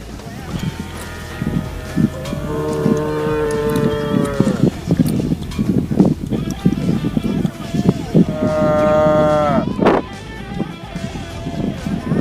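Cattle at a road crossing moo in two long, loud, drawn-out calls, with engine rumble and people talking in the background.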